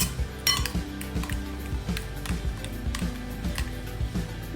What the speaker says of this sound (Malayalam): അപ്പോൾ ഇത് നല്ലപോലെ ഒന്ന് മിക്സ് ചെയ്ത് വയ്ക്കാം.